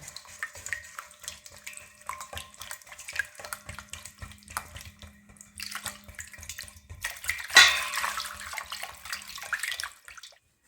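Lukewarm water, about a tea glass's worth, poured into a baklava dough mixture with apple cider vinegar, giving a close, trickling splash that swells near the end and then stops, with clinks and light handling noises.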